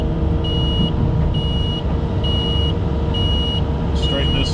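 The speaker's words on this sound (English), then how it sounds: "Makes nice beeping sounds though." CAT 310 excavator sounding a series of evenly spaced electronic beeps, five short pulses over a loud, steady engine rumble.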